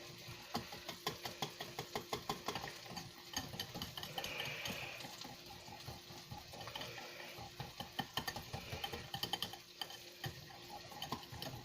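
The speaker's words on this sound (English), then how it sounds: "let's stir this up" A spoon works through a breakfast egg pie mixture in a bowl, giving quiet, irregular scraping and clinking taps against the dish, faint and close with no talking.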